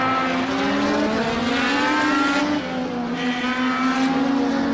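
Race cars on the Indianapolis circuit roaring at high revs in a close onboard battle, a loud, continuous engine whine that rises and shifts pitch through gear changes, with no talk.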